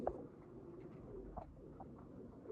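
Pigeons in a small coop, kept by a Sialkot breeder, coo softly in a few short calls over a faint, steady background hum, with no talking.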